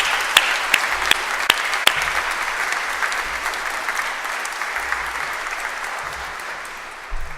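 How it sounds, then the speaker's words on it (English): Graduation ceremony audience giving a round of applause, steady crowd clapping opening with a few sharp louder claps up front, then settling into an even, sustained patter that gradually fades toward the end. "Let's give a massive round of applause to all our graduates today"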